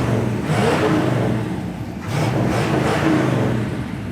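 A 1956 Chevy 210 engine revs up twice nearby, rising and falling in loud throaty bursts with a deep rumble between them.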